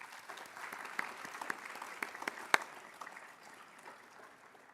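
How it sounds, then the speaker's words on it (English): Modest audience applause at a university agricultural college award ceremony, scattered sharp claps from a small indoor group that thin out and fade over a few seconds. "Let's give them a round of applause."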